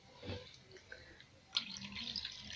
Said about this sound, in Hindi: थोड़ा सा पानी इसमें और डालते हैं